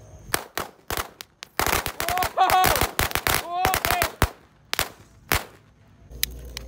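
A rapid string of loud firecracker bangs from jumbo firecrackers goes off close by at night, crackling in a fast burst that thins into scattered pops, with faint voices underneath.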